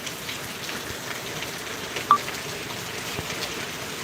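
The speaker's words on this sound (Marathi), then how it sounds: "आमच्या डोंगरावरनं कसा दिसतो हा पाऊस" Heavy rain falls over a hillside near Mumbai, a steady moderate hiss heard from a distance, with a single brief electronic beep partway through.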